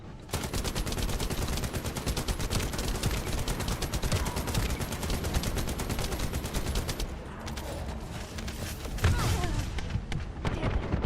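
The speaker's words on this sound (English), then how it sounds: "Wait, oh god, the explosion." Rapid gunfire and explosive booms from a video game battle, dense and continuous, loud bursts filling most of the stretch before a brief dip, then more blasts.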